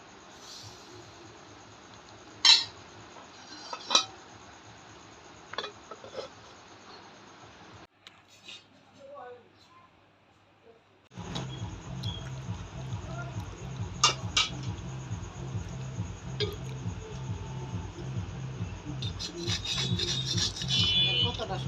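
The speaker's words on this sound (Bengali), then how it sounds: "এবার আমি পিঠাটা ভেজে নিব দুই চামচ দিয়ে দিব" Chitoi pitha batter spooned into a hot pan for frying, giving low, rapid bubbling and sizzling that starts partway through, along with scattered clinks of a spoon against the pan.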